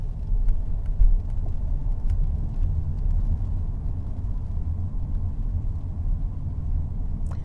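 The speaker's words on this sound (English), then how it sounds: "Right, we're off in a motor car." Motor car engine rumbling steadily from inside the vehicle as it pulls away and drives on a grey, rainy day near Blackpool, a low continuous drone with a few faint clicks and no talk.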